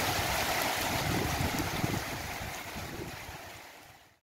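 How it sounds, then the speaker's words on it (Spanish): Rain easing off during a heavy storm, a steady broad wash of falling water that slowly fades in loudness and cuts off abruptly at the end. "calma un poquito la lluvia"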